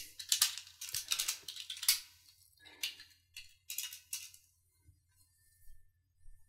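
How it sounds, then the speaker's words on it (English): Clacking keystrokes on a loud computer keyboard during Minecraft PvP play, picked up by a new headset microphone, coming in quick irregular bursts that thin out to a few scattered taps. "I apologise for the loud keyboard."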